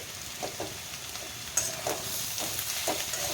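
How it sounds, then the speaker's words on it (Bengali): Winter vegetables and potatoes fry in a pan with a steady, moderate sizzle. Faint, occasional stirring scrapes punctuate it, heard close up with no voices. "এগুলো ভাজা হতে থাক"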